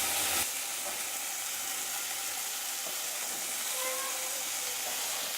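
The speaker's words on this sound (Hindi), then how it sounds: "ये पीसेस इस तरह से बारी बारी से इसमें डाल देना है और दोनों साइड से अच्छी तरह से टर्न करके दोनों साइड से इसे अच्छे से सेक लेना" Chicken pieces fry in a hot pan for shawarma, a dense, steady sizzling hiss that carries on without a break, close up with no talking.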